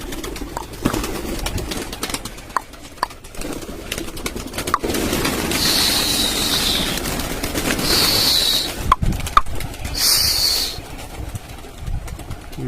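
Domestic pigeons kept in a rooftop loft give soft, intermittent cooing close by, mixed with brief higher chirps and some wing or movement noise, with no talking.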